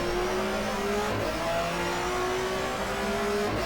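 A touring car engine revs and shifts through gears in the GTR2 racing game, a steady loud mechanical drone rising and dropping in pitch as the car is thrown into turn one at the Nürburgring.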